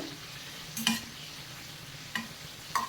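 Milk cake pieces frying in hot oil give a steady soft sizzle, with a few sharper clinks and stirring scrapes from a utensil in the pan, quiet and close with no talking.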